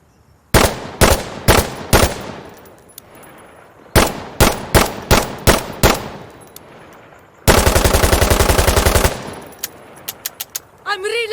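Rapid gunfire from weapons in the tactical shooter Insurgency: Sandstorm, with several bursts of close, loud shots, then a sustained automatic burst, then a few scattered single shots.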